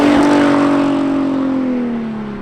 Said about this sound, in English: So I'm very happy with how loud this exhaust is, even though it is very loud.